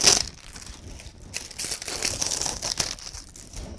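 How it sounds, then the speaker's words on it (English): Plastic wrappers are crinkled and pulled off the candles in a Thanksgiving centerpiece, a close, continuous crackling and crumpling with a few sharper tearing bursts. "going back and removing the wrappers"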